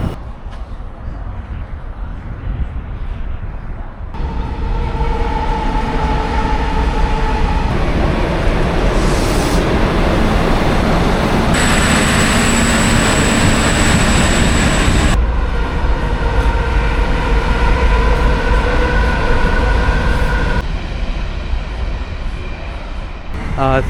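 Trains rolling through Maitland station on the Newcastle line, a steady loud rumble of passing rail cars with horn-like tonal bands and brake or wheel squeal rising and fading across the platform.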